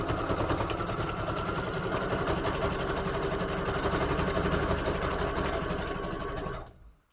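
A sewing machine runs a number 4 stitch, a steady rapid mechanical whirr that holds constant for about six and a half seconds, then winds down and stops.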